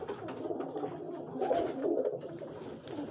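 Pigeons coo softly at evening feeding time in a home loft, several low, burbling calls overlapping close by, with light rustling and wing movement.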